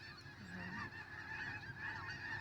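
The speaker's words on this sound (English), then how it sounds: "You don't like the sound of the birds, Doc?" Geese honk repeatedly outside a car, a cluster of nasal calls overlapping at moderate distance over a low background rumble.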